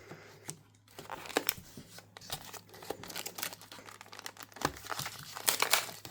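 Cardboard packaging from a Nintendo 64 game being handled, with crinkling, rustling and light tearing scrapes in irregular bursts close by, quiet and without talk.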